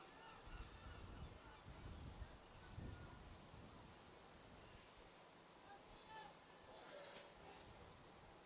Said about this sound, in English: Seagulls are quite noisy today.